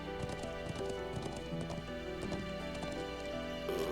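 A horse gallops in Trails of Cold Steel IV, its hooves clip-clopping in a quick, steady rhythm over layered game music, fairly faint overall, with a brief whinny-like tone near the end.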